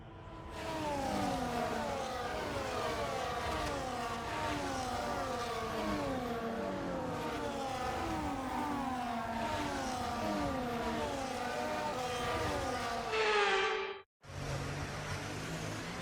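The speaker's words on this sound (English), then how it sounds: "The formation lap is underway ahead of today's sprint." F1 23 racing game cars on the formation lap before a sprint in China, several engine whines rising and falling in overlapping sweeps, loud and continuous, with a brief dropout near the end.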